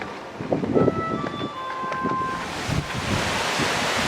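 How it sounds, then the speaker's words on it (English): A continuous rush of falling water, like a waterfall close by, with faint clattering and tones early on, then a steady hissing roar. "Right by the waterfall."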